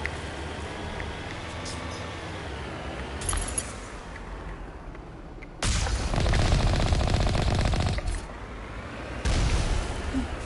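Gunfire in a video game, with heavy bursts of automatic shots starting partway through and returning near the end, loud over a quieter ambient background.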